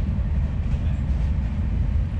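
Inside an Indian train carriage, the train runs with a loud, deep, constant rumble and rattling hum, close and steady throughout.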